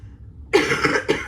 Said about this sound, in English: it's only when I start talking too much I cough.